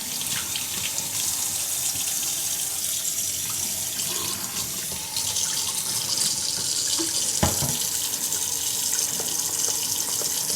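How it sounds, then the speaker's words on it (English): Water runs steadily from a kitchen sink tap while hands are washed beneath it, a continuous close splashing hiss with a brief knock partway through. "I gotta wash my hands."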